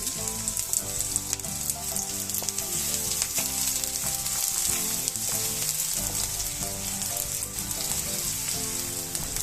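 Onion fries over a high gas flame in hot oil with a dense, crackling sizzle, close and loud, holding steady throughout with stirring noises and music faintly underneath.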